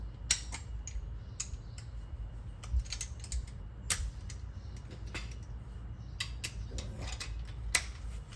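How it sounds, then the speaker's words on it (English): A torque wrench tightens bolts on a carrier bearing skid plate of a 2023+ Honda Pilot to 41 inch-pounds, giving sharp, irregular ratcheting clicks at close range over a steady background hum. "Alright, all we're gonna do now is just tighten it up to 41 inch-pounds."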